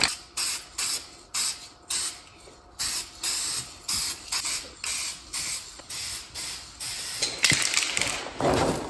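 Primer sprays from an aerosol can onto a car body during a flip of a car with a bad engine. There are about a dozen short, close hissing bursts in a steady rhythm, then a longer, uneven spray.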